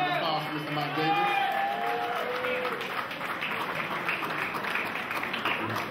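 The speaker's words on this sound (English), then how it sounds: "A round of applause for Mr. Mike Davis." At a high school 50th anniversary celebration, a crowd applauds and cheers an honoree, with steady clapping and whoops. Raised voices are heard over the clapping at the start, then it continues as an even wash of applause.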